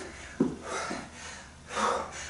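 Heavy breathing from someone mid-workout with a cold, a sharp snort-like inhale early on followed by breathy puffs and a louder exhale near the end, close and alone.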